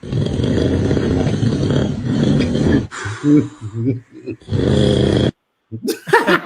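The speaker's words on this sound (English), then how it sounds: "This is a baby listening to its dad snoring." Loud, rattling snoring in long breaths, broken by short pauses and a brief silence, with some voice sounds mixed in.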